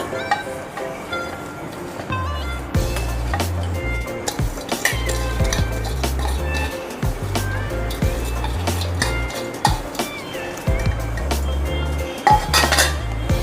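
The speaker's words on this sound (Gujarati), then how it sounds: "આ રીતે આપણે કન્ટિન્યુ હલાવતું જવાનું છે." Rice in milk is stirred continuously in a pot for saffron kheer, with near metallic scraping and clinking of a spoon against the pot, repeated in an uneven rhythm over a soft simmering hiss.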